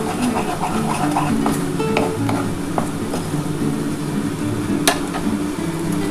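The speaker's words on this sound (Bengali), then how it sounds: "ভালো করে একটু ভেজে নিতে হবে এটাকে" Chana dal, salted, fries in a pan with a low steady sizzle and occasional stirring scrapes and clinks, close and continuous under a background hum.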